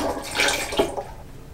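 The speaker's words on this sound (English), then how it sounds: "I'm going to go ahead and pour that in." Rehydrated yeast, milky and bread-scented, is poured into mead must made with honey, giving a brief close liquid splash and glug that fades into quiet room tone.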